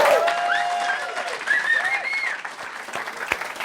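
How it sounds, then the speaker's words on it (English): A crowd of Formula 1 fans watching the Brazil Grand Prix gives a sustained, lively round of applause, dense clapping close by with a few whistles and cheers rising over it, fading slightly toward the end. "So I need a big enough round of applause for it."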